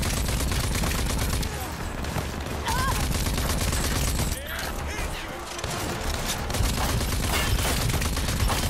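Dense, continuous automatic gunfire from the video game Rage 2, loud and sustained with overlapping bursts and booms, briefly thinning midway before resuming at full intensity.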